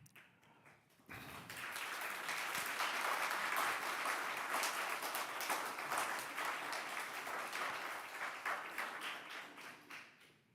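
Audience applause at a city council meeting erupts abruptly and holds as a dense, steady wash of clapping for several seconds before tapering slightly, with no talk over it.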